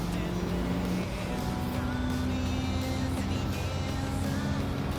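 Mitsubishi Lancer Evo engine from Gran Turismo 7, a steady droning hum with tonal harmonics holding for the full stretch, loud and continuous.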